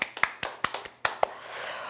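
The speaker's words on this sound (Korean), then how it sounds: "박수 한번 드리겠습니다." A small audience at a political talk gives scattered, sparse applause, a handful of separate sharp claps that thin out within two seconds.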